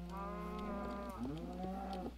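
Cattle lowing in a video game farm, long sustained moos overlapping one after another at steady volume over a constant low background hum.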